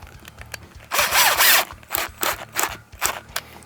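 A wood screw is driven through a Genie Clip into a basement wall for soundproofing, in short bursts of power-driver whir and ratcheting, one longer run followed by several quick pulses, close and fairly loud.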